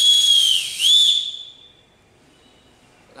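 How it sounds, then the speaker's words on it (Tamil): A 3D printed whistle blown hard, giving a loud, piercing tone in two blasts about a second long, the pitch dipping briefly between them before it fades out to quiet. "இந்த விசில் எந்த அளவுக்கு பவர்ஃபுல்லாக இருக்கும் அப்படிங்கிறத ப்ளோ பண்ணிக்காங்க"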